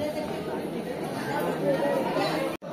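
Steady babble of a large crowd gathered at Hirakud Dam, Sambalpur, many overlapping voices close by, holding level until a brief cut near the end.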